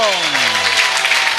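Church congregation at a prophet's service clapping loudly in a dense continuous burst, with a voice trailing off over it at the start.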